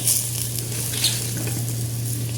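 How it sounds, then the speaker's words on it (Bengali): Chopped taro leaves go into boiling water in a pot, giving a continuous close bubbling hiss over a low steady hum, with no talk. "জল বলক হয়েছে এখন আমি এই কাটা কচুর শাকগুলো ছেড়ে দিয়ে সিদ্ধ করব"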